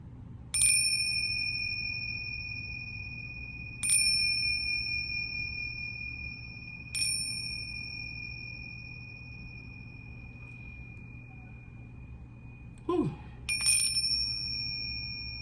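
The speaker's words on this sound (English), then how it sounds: "I clear my energy with these bells" Clear bells ring out four times at spaced intervals, each bright chime decaying slowly in a quiet room, with a soft thump just before the last strike.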